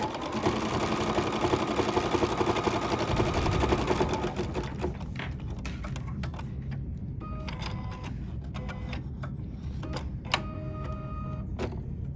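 A sewing machine running a stitch, a dense mechanical whir for about four seconds that stops, followed by quieter clicks, thread handling and small taps.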